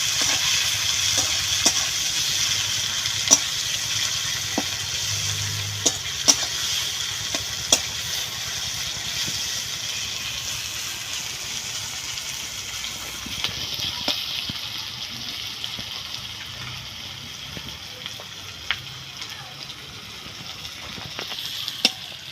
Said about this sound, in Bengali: পেঁয়াজগুলো আমার হালকা ভাজা হয়ে গিয়েছে।